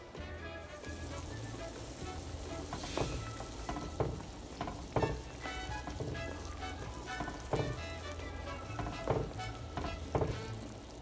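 Cuban shrimp creole sauce simmers in a pan with a steady bubbling sizzle, broken by occasional louder pops and spatters and some clinks of stirring, close and moderately loud.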